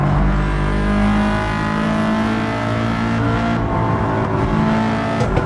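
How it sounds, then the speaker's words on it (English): A loud race car engine in Gran Turismo 7 drones steadily with harmonic whine, holding a constant high rev throughout, close and continuous with no talking. "This car sounds awesome."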